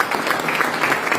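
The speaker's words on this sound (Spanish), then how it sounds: "Den un aplauso al Señor." Congregation applause during a church service, a brief burst of dense, continuous clapping at steady loudness.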